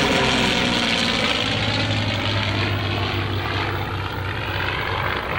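P-40 fighter plane with an Allison engine flying: a loud, steady propeller-engine drone fills the whole stretch, close and unbroken, with no voices.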